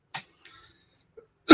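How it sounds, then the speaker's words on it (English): A man recovering from the flu coughs, with a few short harsh bursts spaced apart and a louder final cough, close and with no speech around them. "So I do have a bit of a cough, by the way, recovering from a bit of a flu"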